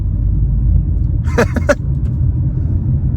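A 2022 Toyota Camry LE driving at half throttle in eco mode, a low steady engine and road rumble from inside the cabin, briefly overlaid by a short voice-like sound in the middle.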